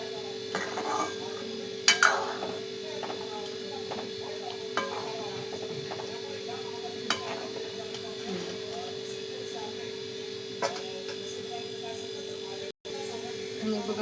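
A spoon stirs and scrapes prawns in a pot, giving soft clinks and scrapes over a steady hum, with a few sharper metallic taps along the way.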